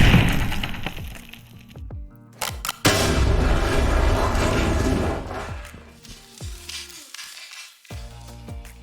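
Loud explosions and gunfire from the tactical shooter Ready or Not or Zero Hour crack and boom in quick succession, with sharp reports and rumbling blasts layered over ringing debris.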